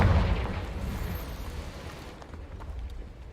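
A booming Confringo blasting-spell explosion in a video game, a loud low-heavy burst at the start that rumbles and fades away over a few seconds, with no talking.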